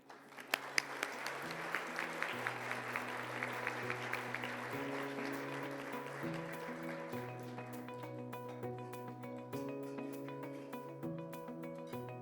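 Audience applause at the 2024 Executive Excellence awards as Zions Bank's EVP and Director of Private Banking Stephanie Horn-Clark is honored, a steady crackle of clapping mixed with stepped musical tones throughout.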